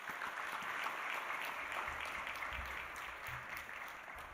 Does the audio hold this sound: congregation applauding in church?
yes